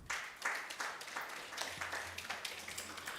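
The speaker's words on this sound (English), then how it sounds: "Please clap for PWANGroup." At a PWAN Group business expo, a small audience claps faintly and somewhat unevenly, a short, quiet patter of hands heard at a distance.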